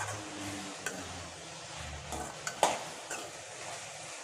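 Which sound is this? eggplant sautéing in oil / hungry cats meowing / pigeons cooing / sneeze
eggplant sautéing in oil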